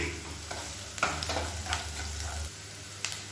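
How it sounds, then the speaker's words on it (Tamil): Onions sizzle gently in a pan with a handful of cashews and some salt, a soft steady frying hiss broken by a few light stirring scrapes, with no talk. "வெங்காயம் வதங்குறதுக்கு உப்பு சேர்த்துக்கலாம்"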